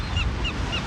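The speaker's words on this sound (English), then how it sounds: "The sounds of the birds." Three short seabird calls ring out against a steady ocean wash, with the surf filling the background and the birdsong thin and distant.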